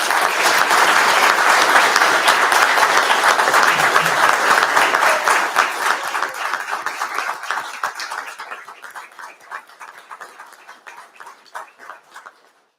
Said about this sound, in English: Let's give all our recipients one last round of applause